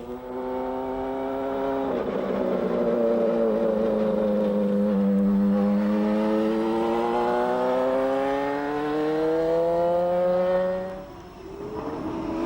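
An Indy race car's Cosworth engine in Nigel Mansell's Indycar '94 revs steadily and loudly, its pitch climbing and sagging in long sweeps, then drops away near the end with no talk over it.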